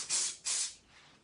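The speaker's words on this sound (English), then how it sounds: "I'm gonna spray it." An aerosol spray can lays a single coat of fixative over a graphite drawing, two quick close hissing bursts followed by a fading tail.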